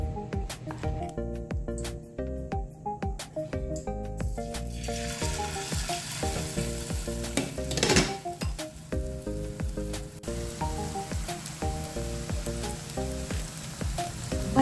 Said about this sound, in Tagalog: So this is carrot malunggay patty. Ready to fry na.